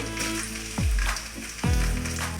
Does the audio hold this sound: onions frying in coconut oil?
yes